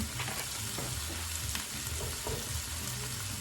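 Diced red onion fries in oil in a pan for curry, a dense continuous sizzle close by with light stirring and low background hum, no talk.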